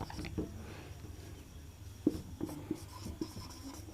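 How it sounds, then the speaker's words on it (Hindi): Chalk scratches and taps across a classroom board as a teacher writes a line during a class 12 chemistry lecture, soft intermittent scraping strokes with a few sharper clicks, close and quiet, no talk. "लिखते हैं एक लाइन फिर से"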